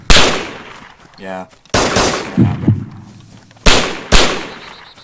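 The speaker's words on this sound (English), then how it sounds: "He's shooting you?" Sharp gunshots fire in DayZ Standalone, a few separate loud cracks between spoken voices, with a brief buzzing tone near the start.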